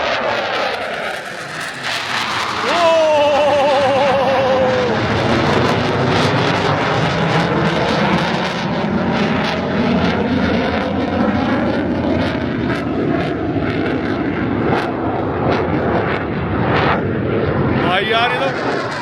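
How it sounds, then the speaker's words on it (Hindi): A fighter jet passes overhead during military practice in the UK, its loud, sustained roar rising and filling the whole stretch. Excited voices talk beneath the rumbling thunder. "फाइटर जेट है भाई।"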